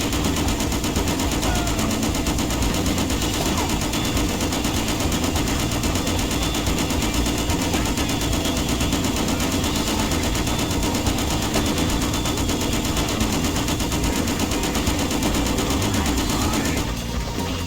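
Rapid automatic gunfire rattles continuously at a helicopter in the Just Cause game, a loud, dense stream of shots running unbroken for many seconds with no talking.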